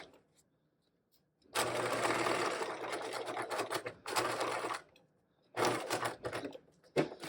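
A sewing machine running a long basting stitch around the edge of a caddy bag side pocket in fabric, fast rattling bursts separated by short pauses as the work is turned at corners, close and loud.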